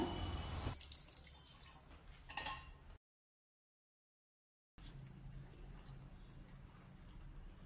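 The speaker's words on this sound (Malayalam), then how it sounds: "ഇനി ഞാൻ മിക്സിയുടെ ജാറിൽ കുറച്ച് വെള്ളം ഒഴിച്ചിട്ട് ഒഴിക്കുന്നുണ്ട്." Water poured into a mixer grinder jar while making a drumstick-leaf pickle; a steady splashing pour runs for a few seconds, breaks off into silence, then resumes as a softer continuous trickle, close and without talk.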